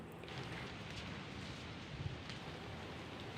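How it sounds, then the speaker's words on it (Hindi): Steady rain falls in a dense, even hiss, with occasional louder drops and no voices. "और देखिए बारिश शुरू हो गई है"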